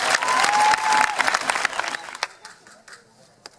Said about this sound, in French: ils méritent un tonnerre d'applaudissements